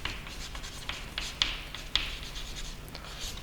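Pen or chalk scratches across a surface in short strokes while a math function is written by hand, with a couple of sharper taps; close and fairly quiet, no talk.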